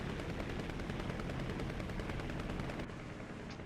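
Tank and machine gun fire in the game War Thunder around a Churchill tank, a fast steady rattle of shots that carries on with the engine rumble beneath before cutting off near the end.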